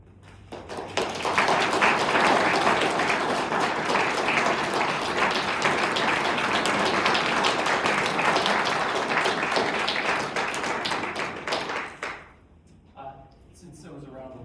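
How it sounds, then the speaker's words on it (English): Audience applause at a township council meeting in Medford, New Jersey, a dense sustained burst of clapping from a packed room lasting about ten seconds before breaking off abruptly into quieter room noise. "Since there was a round of applause"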